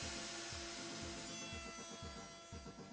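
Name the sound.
router cutting through wood rails into a coping sled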